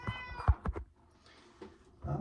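A small cat meowing close by indoors, a quick run of three or four short meows followed by a fainter final call.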